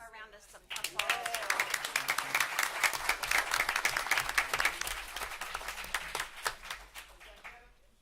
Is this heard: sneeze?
no